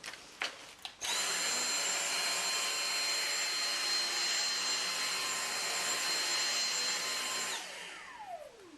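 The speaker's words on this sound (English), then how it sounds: "Now we're going to run the vacuum through a few tests." Dyson DC59 Animal cordless vacuum picking up flour on carpet: a few clicks, then a loud, steady high-pitched motor whine that runs for several seconds and winds down at the end.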